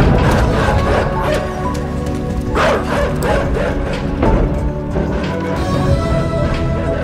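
Dogs in the video game INSIDE bark loudly and rapidly at close range. The harsh barks overlap in a continuous, aggressive volley.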